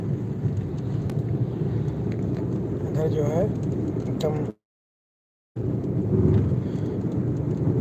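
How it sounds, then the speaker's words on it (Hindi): Steady rain hisses with a low rumble throughout, while a person speaks over it; the sound cuts out briefly partway through. "बारिश का आनंद ले रहे हैं हम लोग"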